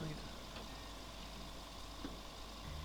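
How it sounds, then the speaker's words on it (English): A truck brakes repeatedly outside near a rail bridge repair site, giving brief faint squeals over a steady low engine rumble and broad background noise. "You can just hear a truck's brakes squeaking as it keeps braking outside"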